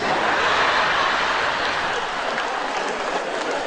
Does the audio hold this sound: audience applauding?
yes